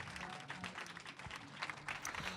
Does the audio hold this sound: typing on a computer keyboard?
no